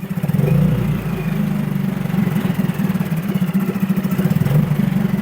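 A Storm 13.5 two-stroke and a Suzuki 6HP four-stroke outboard motor run together during winter storage, giving a steady, loud low-pitched drone with a fast pulsing clatter that continues throughout.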